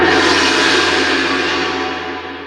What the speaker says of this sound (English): Play that gong.